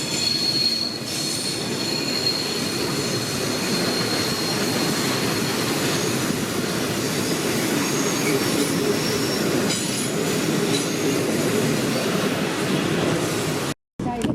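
A passenger train of H cars heading for Bacchus Marsh or Geelong rolls past in North Melbourne, with continuous high-pitched wheel squeal over a steady rumble, loud and close, lasting throughout and cutting out briefly at the very end.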